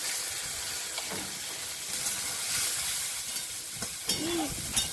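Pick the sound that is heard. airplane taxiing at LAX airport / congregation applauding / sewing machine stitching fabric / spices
spices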